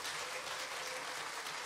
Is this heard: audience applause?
yes